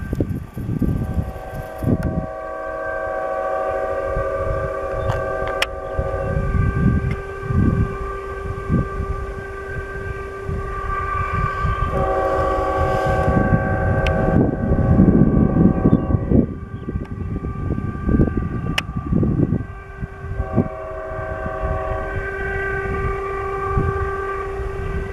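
A Union Pacific freight train rolls past with its horn sounding in several long chords, over continuous rumbling and clattering of wheels and cars, loud and close, with some wind noise.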